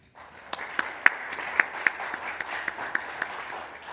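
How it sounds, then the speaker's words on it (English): Small audience at an evening history lecture on the Battle of Iwo Jima claps for the speaker; sparse, distinct individual claps stand out over soft applause that stays at a modest level. "let's give Mark a big round of applause."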